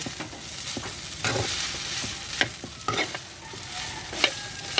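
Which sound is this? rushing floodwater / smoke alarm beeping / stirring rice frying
stirring rice frying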